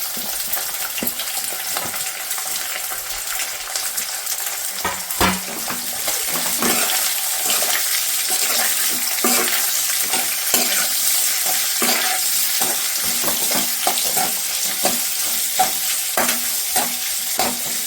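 Thinly sliced onions sizzle steadily in hot oil with chana dal while being stirred for potato palya, with frequent scraping and clinking of the spoon against the pan and a brief running-tap splash early on.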